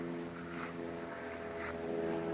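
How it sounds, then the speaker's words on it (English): Airplane flying overhead near a house about two miles from an airport, a steady broad drone with a faint tonal hum that holds constant throughout. "Got us a plane flying over here."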